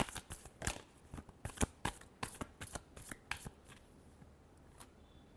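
Tarot cards being shuffled up close, a fast run of crisp riffling snaps and flicks that taper off into quiet near the end.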